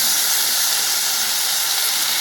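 Finely chopped tomatoes hit hot oil with browned onions in a pan, letting out a loud, steady sizzle and hiss that stays even throughout, with no voices.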